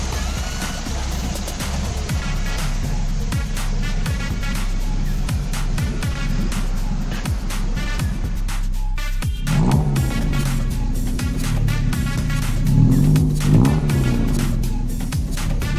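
A Perodua Myvi fitted with a full stainless steel exhaust system revs repeatedly, loud and close, its throaty note rising and falling in several sharp blips over a steady idle.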